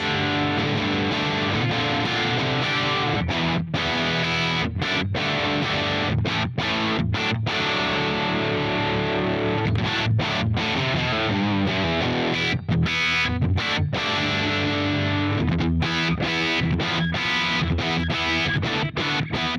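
Heavily distorted electric guitar played through a bass distortion pedal, riffing loudly and continuously, thick fuzzy tone with chugging palm-muted bursts and brief gaps between phrases.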